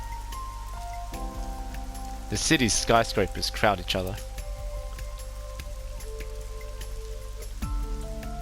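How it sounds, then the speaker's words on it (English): Steady rain hiss with faint drips runs throughout in the video game The Somnium Files, while a voice speaks briefly in the middle over the patter. "This rain is depressing."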